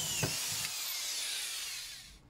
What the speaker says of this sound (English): I just put a couple of screws in